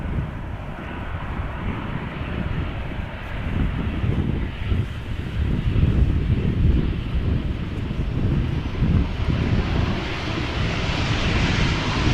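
An airliner landing at Amsterdam Schiphol Airport makes a broad, rumbling jet roar that swells and holds, heard from a distance outdoors with wind buffeting the microphone and no talking.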